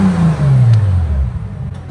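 Bentley Continental Supersports W12 engine revs smoothly, a loud low drone sliding down in pitch as it settles, up close with no talking.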